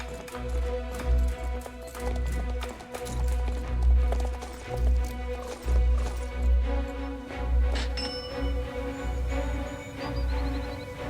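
Horse galloping in the online game Star Stable Online, a rapid rhythmic clip-clop of hooves repeating steadily throughout over a quiet musical background.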